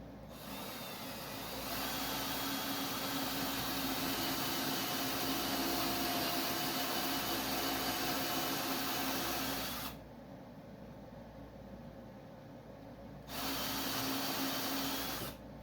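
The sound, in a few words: power tool cutting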